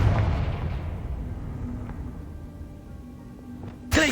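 A Confringo spell explosion in Hogwarts Legacy, a heavy booming blast at the start that rumbles and decays over several seconds, followed by a sharp short burst at the end.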